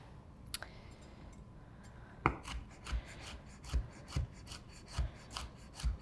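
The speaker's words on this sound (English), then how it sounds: "So when we're chopping, I like to top and tail that bell pepper" A knife chops a bell pepper steadily on a cutting board, about eight crisp, evenly spaced cuts after a quiet start, close by with no talking.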